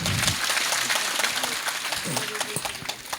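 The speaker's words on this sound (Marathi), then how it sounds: "सगळ्यांनी एकदा जोरदार टाळी वाजवा" Audience in a packed religious gathering hall applauding loudly, a dense rattle of many hands clapping throughout, with a voice speaking over the applause near the start and again later.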